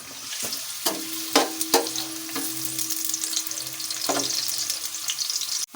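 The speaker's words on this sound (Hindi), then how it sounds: "ऑयल हमारा हल्का सा गर्म हो जाए तो इसके बाद हम ऐड करेंगे इसमें प्याज।" Onions frying in lightly heated oil for a matar pulao, a steady close sizzle with a few sharp stirring clicks and spoon taps against the pan throughout.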